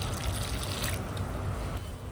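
Water poured into a karappusa dough mixture in a home kitchen, a faint, steady trickling splash that eases off toward the end.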